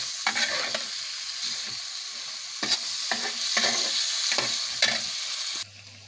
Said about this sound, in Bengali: মাছটা কষায় উঠায় ফেলছি